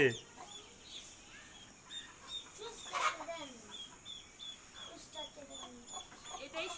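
Rooster clucking and calling near the mic amid other bird chirps, with people talking and shouting in the background.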